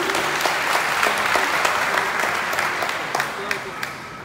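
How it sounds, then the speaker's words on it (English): Steady, moderate clapping from a crowd that carries on throughout, with a few sharper individual claps standing out. "that's our weak applause"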